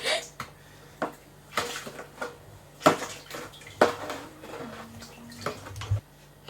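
A spoon stirs six bags of sugar into four litres of boiling water for summer fruit wine, giving scattered uneven clinks and knocks against the container at close range, with no one talking.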